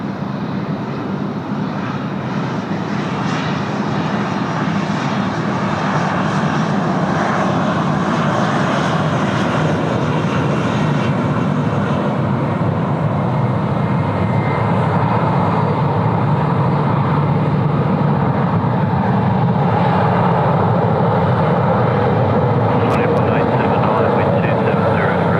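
A Qantas passenger jet taxis past at Sydney Airport on its way to runway 16 left, its engines a steady, loud broadband roar that holds throughout without a break.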